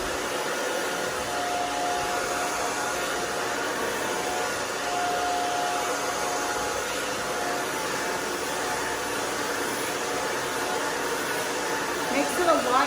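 A hair dryer blows steadily on hair that is nearly dry while it is styled with a round brush during a gray-blending haircut, a constant close whooshing roar with no speech over it.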